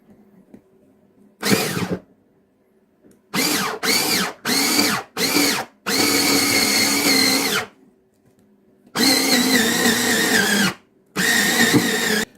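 Piranha PSD 2215 palm-size cordless screwdriver driving a longer screw, a series of loud whirring motor bursts, several short and a few long sustained runs separated by pauses, close up with no talk.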